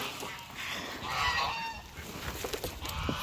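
Several geese honk in bursts, moderately close on a farm walk, calls rising and overlapping before trailing into scattered softer honks and background noise.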